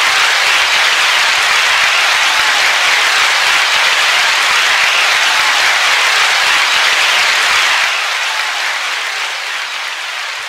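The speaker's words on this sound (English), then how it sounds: "That's enough applause." Sustained audience applause at a religious exhortation gathering fills the room, loud and steady, then eases off slightly near the end with no talk over it.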